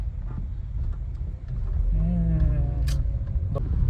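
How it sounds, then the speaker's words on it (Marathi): Road traffic in an Indian city, a heavy low engine rumble that swells partway through with a passing vehicle's rising whine and a brief horn-like tone, close and continuous with voices talking over it. "ट्रॅफिक बघा ट्रॅफिक असलं ट्रॅफिक"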